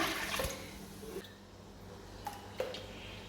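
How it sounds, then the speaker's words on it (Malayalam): A cup of water is poured into a cooking pot of rice for chicken biryani, a short rushing gush at the start that fades into gentle sloshing and a few faint clinks. "ഇനി നമ്മൾ ഒരു കപ്പും കൂടി വെള്ളം ഒഴിച്ച് കൊടുക്കുകയാണ്"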